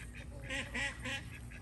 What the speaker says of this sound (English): The ducks are having a fit.